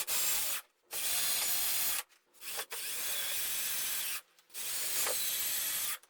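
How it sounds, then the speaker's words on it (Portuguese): Screws 5 cm long are driven to join wooden pieces through pre-drilled holes, heard as four long, loud whirring bursts of a few seconds each, separated by brief pauses. "Eu vou usar parafuso de 5 centímetros para fixar uma peça na outra."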